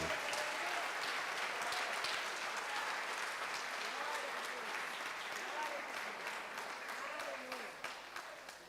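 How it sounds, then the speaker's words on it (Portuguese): A church congregation at a Sunday evening service applauds for Jesus, sustained dense clapping heard from a distance that fades slightly toward the end, with voices mixed in. "Uma salva de palmas para Jesus, irmão."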